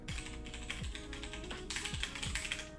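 Typing on a BZfuture Z11 budget mechanical keyboard with a plastic board: quick, uneven runs of clicky keystrokes close up, with occasional heavier thocks from larger keys.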